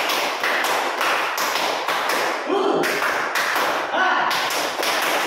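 A group performs the 'tepuk semangat' clapping routine at a mentoring session: a steady run of sharp, rhythmic hand claps, fairly close and loud, with a brief voice breaking in partway through.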